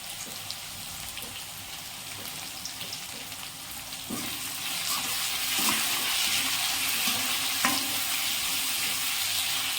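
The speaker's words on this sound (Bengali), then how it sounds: "এবার পেঁয়াজটাকে আমরা হালকা হালকা ব্রাউনিশ রং হওয়ার জন্য একটু নাড়াচাড়া করে নেব 2 মিনিট মতো।" Sliced onions with salt fry in a pan as a steady, close sizzle with occasional stirring scrapes, growing louder and denser partway through.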